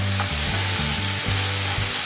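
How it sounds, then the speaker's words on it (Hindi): Green peas fry in oil in a pan with ginger-garlic paste, a close, constant sizzle with a rhythmic low hum pulsing underneath, short and steady with no voices. "मटर अच्छे से फ्राई हो गया है"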